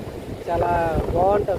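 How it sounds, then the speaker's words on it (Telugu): Gusty wind buffets the microphone at SriKurmam beach, with water and surf rumbling underneath in strong bursts, while a person speaks briefly over it. "ఈ బీచ్లో ఉండే సౌండ్ని అండ్ వాటర్ని అండ్ గాలిని"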